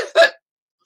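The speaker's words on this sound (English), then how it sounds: "My coughs cause hiccups." A single short hiccup, fairly loud and close, lasting about a quarter second and followed by silence.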